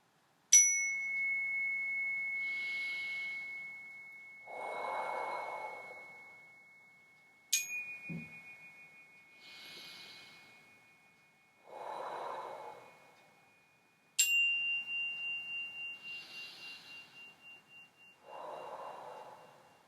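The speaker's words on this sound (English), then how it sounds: "Breathing in through our nose and then out through our mouth." Three slow, deep breaths in through the nose and out through the mouth during a children's yoga session, each soft inhale followed by a fuller exhale, with a chime ringing at the start of each breath.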